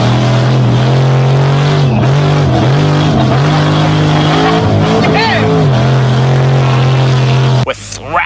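A monster truck revs hard in a deep mud puddle, its loud, steady engine drone rising and dipping through several throttle blips before cutting off abruptly near the end; voices can be heard faintly beneath it.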